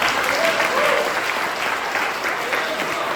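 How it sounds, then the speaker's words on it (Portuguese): Church congregation clapping together during a sermon, a sustained, dense round of applause filling the room with a faint murmur of voices underneath. "Pode aplaudir a Jesus."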